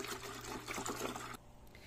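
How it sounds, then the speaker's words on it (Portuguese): A liter of milk poured into a container makes a continuous, close liquid stream that runs for over a second and then abruptly stops, leaving quiet room tone. "A gente vai colocar aqui 1 litro de leite."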